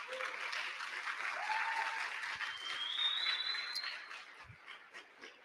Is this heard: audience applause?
yes